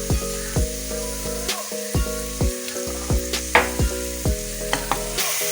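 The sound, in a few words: chopped onions sautéing in a pan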